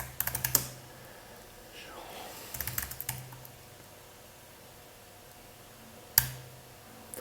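Computer keyboard typing a git commit message, with two short bursts of rapid key clicks near the start, a quieter cluster of taps a few seconds later, and a single sharp key strike near the end, close and dry in a quiet room.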